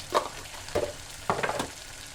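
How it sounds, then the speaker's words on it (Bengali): Turmeric, coriander and cumin spice paste fries in a pan for a fish curry, with three short bursts of stirring and sizzling close by, alone without speech. "ভালো করে কষাই নিব মশলাগুলা"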